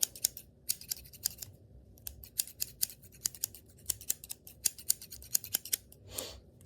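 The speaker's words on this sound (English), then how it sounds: "While it's wet, I'm gonna cut it, okay?" Sharp metal scissors snip through wet hair at the sides of the head, a quick uneven run of crisp, close cuts with short pauses between them and no talking.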